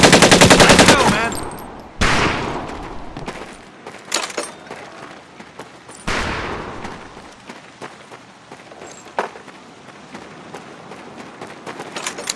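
Rifle and machine gun fire at a boot camp range in the video game Medal of Honor: Pacific Assault, a loud sustained burst opening, then sharp repeated shots and bursts with echoing decay across the stretch.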